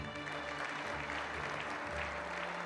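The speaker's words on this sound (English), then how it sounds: "A round of applause, please" A crowd applauds steadily, dense clapping filling the room over faint music in the background.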